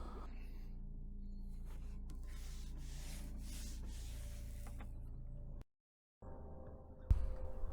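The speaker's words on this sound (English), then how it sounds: "So now I'm just going to wipe off the excess with this 400 GSM microfiber towel." A 400 GSM microfiber towel is rubbed over a car headlight to wipe off excess Pink Stuff polish. It makes a close, steady, brushy scrubbing that runs for several seconds, stops briefly, then resumes.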